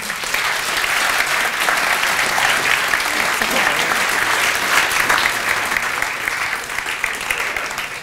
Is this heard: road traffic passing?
no